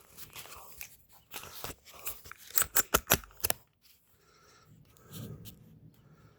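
Metal tools working the radiator bolts on a Willys Jeep during engine removal, a run of sharp close clicks and ratcheting snaps bunched together, then quieter shuffling and low handling noise.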